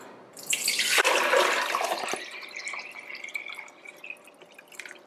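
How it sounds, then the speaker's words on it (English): A gallon of water is poured into a pot for a turkey brine, with a loud splashing gush at the start that settles into a thinner, trickling stream and a few drips, heard close and with no talk. "I'm going to pour it here into my pot."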